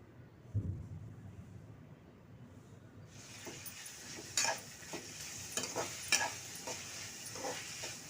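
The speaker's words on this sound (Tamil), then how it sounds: "வெங்காயம் நல்லா வதங்கி வந்ததுக்கப்புறம் தக்காளியை போட்டு வதக்கிக்கலாம்" Tomatoes and onions start sizzling in a hot pan partway through, with a steady hiss and occasional scraping stirs and clinks of a spoon.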